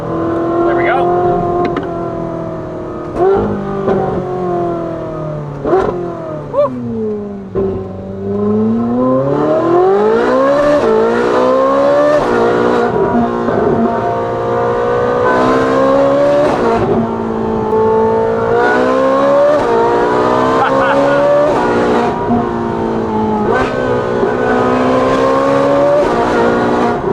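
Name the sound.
Ferrari 458 with titanium exhaust revving, top up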